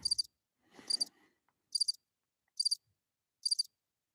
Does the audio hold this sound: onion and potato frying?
no